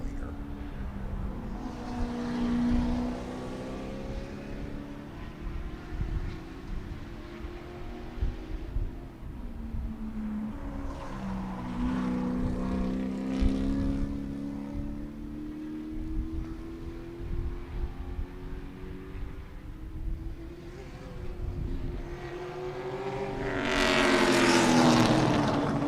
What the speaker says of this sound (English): Car sounds like a vacuum cleaner.